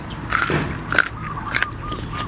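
Crunchy bites into fresh raw bitter gourd eaten with raw beef and spicy dipping sauce outdoors behind a house: three or four close, crisp snapping crunches in quick succession, loud and near, with faint chewing between.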